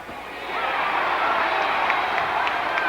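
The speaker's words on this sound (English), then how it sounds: "The crowd says yes, so Larry Chene does." A wrestling crowd at a live match cheers and roars in a sustained, loud wash of voices that swells after a quieter start and holds steady.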